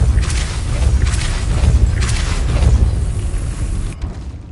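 The Depulso spell cast in the Hogwarts Legacy video game lands as a series of heavy, booming blasts, loud and close, repeating for several seconds before the sound cuts away abruptly near the end.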